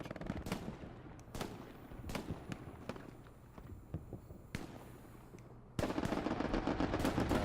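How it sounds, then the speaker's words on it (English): Rapid bursts of strafing-run gunfire from a plane in the World War II shooter Hell Let Loose, on console, with sharp cracks over a dense rumbling battle bed that swells louder near the end. "Strafing run from Mac coming in."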